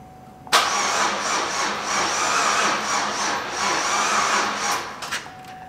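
A long-neglected engine, run on carb cleaner, cranks hard and sputters as it tries to catch, a loud steady churning that lasts about five seconds before cutting off, with no talk over it.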